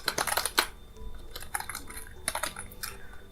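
Keys clatter on a computer keyboard during coding, coming as quick clusters of close, crisp keystrokes with brief gaps between bursts, with no speech.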